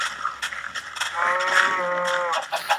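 Cattle mooing among farm animals in a Minecraft-style game, a sustained tonal low call with harmonics lasting over a second, fairly loud against a busy background.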